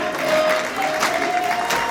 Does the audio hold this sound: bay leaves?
no